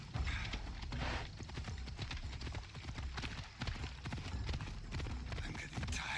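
A horse gallops in the video game Assassin's Creed Odyssey, its rapid, rhythmic hoofbeats driving continuously and close, with faint game ambience underneath.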